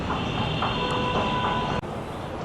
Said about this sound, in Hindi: मेट्रो स्टेशन कुछ इस तरह से लगता है।